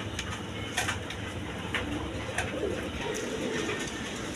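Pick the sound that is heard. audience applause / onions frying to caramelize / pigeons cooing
pigeons cooing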